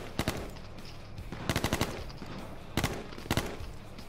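Automatic gunfire in the video game H1Z1 rattles out in four short, sharp bursts spaced over a few seconds, loud against a quiet background.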